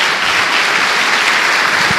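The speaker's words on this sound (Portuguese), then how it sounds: "Dê uma salva de palmas ao Senhor" A crowd claps and cheers steadily, a dense wash of applause filling the whole moment without a break.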